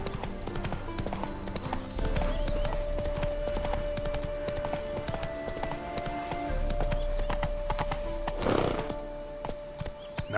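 Roach the horse in The Witcher 3 video game, its hooves clip-clopping in a fast, regular galloping rhythm over a continuous tonal hum, with a brief whinny or snort near the end.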